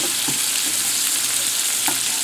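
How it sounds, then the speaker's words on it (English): Fresh sage leaves fry in a pan, giving a loud continuous sizzle with small crackles and a brief stir, close up and with no voices. "As the sage leaves crisp up, I'm picking them out of the pan"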